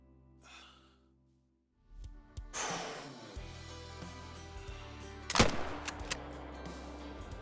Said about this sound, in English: let's see if we can pull off a 360-yard shot here